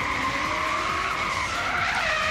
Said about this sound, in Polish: Karol Kowalski za autem Nissan R34 Skyline.